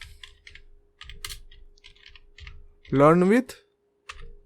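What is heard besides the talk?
typing Python code on a computer keyboard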